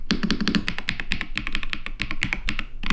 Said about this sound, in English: This is the keyboard I got. Just listen.